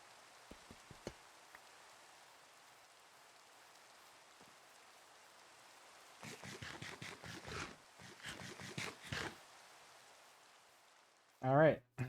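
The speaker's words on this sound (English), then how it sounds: "I finished just in time for the rain to stop" Rain falls in the Minecraft video game as a steady, soft hiss, followed by a stretch of louder rain-like bursts where a voice briefly cuts in near the end.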